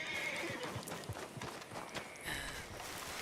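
A horse in Red Dead Online trots with quick, fairly faint hoof clops in an uneven rhythm, and a brief whinny rises over them.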